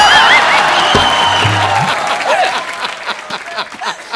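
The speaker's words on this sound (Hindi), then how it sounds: "जोरदार तालियां" A studio audience at a television comedy show breaks into loud applause mixed with whistles and a brief voice, then the clapping thins and tapers off toward the end.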